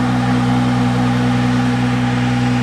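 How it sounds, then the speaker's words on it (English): Exhaust of a 2017 BMW 340i xDrive M Sport with a 6-speed manual, a steady, close, low droning rumble that holds even and unbroken throughout, with no talking. "You can hear the exhaust. It's got a little more of a guttural sound to it."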